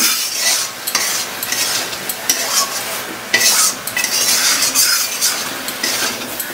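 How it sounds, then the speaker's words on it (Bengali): Carrot, eggplant and onion being stir-fried with spices, a loud continuous sizzle broken by repeated scraping strokes of a spatula against the pan, with no talking. "সবজিগুলো মশলার সঙ্গে ভালো করে কষিয়ে নিচ্ছি"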